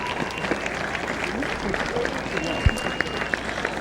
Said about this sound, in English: a nice round of applause as Knorr will walk off